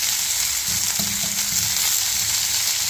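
Urad dal, chana dal, chopped onion and curry leaves sizzle steadily in a hot iron pan, a continuous frying hiss broken by a few soft scrapes of stirring.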